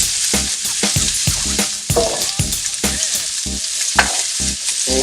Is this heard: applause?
no